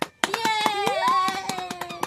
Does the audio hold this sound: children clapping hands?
yes